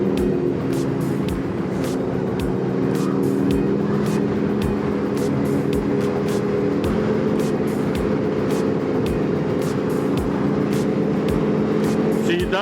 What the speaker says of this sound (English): That exhaust, you probably can't even hear me because of that flipping exhaust.